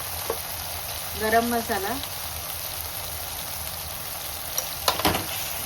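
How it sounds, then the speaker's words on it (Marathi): Onion, tomato, turmeric, chilli powder and homemade spice mix sautéing in a pan for prawn khichdi, a steady hiss throughout with a brief spoken phrase early and a couple of clinks near the end. "आता हे छान असं मस्त परतून घ्यायचं"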